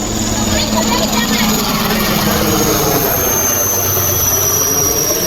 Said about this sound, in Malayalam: ഹെലികോപ്റ്റർ ഫുള്ള് പറന്നോണ്ടിരിക്കട്ടെ എൻ്റെ അടുത്ത്